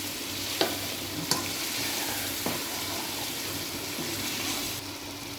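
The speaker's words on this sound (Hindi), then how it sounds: "अब हम इनको इन मसालों को अच्छी तरह भून लेंगे।" Ground spices stir-fried in a pan for chicken masala curry, a steady sizzle with a few sharp scrapes of a spoon against the pan, close and continuous with no talking.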